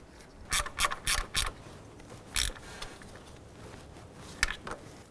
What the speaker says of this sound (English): We'll install that nut and snug it down.